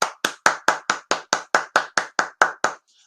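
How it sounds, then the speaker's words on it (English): A single pair of hands claps twelve times in a steady, evenly spaced rhythm. Each clap is crisp, close and loud, with nothing in between, and the sequence ends abruptly. "But I want to applaud this man."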